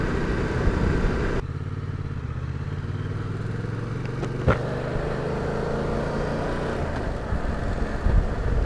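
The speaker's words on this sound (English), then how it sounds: "Back roads in the Cotswolds on a motorbike." A Yamaha Tracer 700 motorcycle rides Cotswolds back roads, its engine a steady, droning rumble mixed with wind noise, close and continuous throughout with a slight shift in tone partway through.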